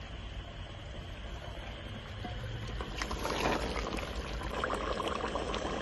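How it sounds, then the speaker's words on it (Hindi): Meat's own released juices being poured back into a cooking pot of beef frying in ghee, a steady liquid pour that grows slightly louder and splashier partway through, heard alone. "अब इसका अपना पानी जो गोश्त में निकाला था गोश्त से, तो डालते हैं।"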